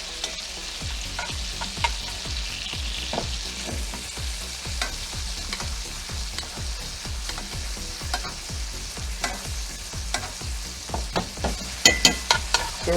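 A porterhouse steak sears in a pan of browning butter: a constant frying sizzle is broken by a regular run of sharp spattering bursts, which grow louder and denser near the end.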